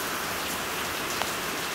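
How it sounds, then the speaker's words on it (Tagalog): Steady rain pouring down outdoors, a dense even hiss of drops hitting surfaces, loud and close with no voices. "It's raining!"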